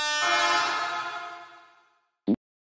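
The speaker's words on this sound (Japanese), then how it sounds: "今の警笛。" A single long train horn blast at a crowded station platform on a fireworks festival night fades out slowly over a couple of seconds, followed by a brief sharp knock.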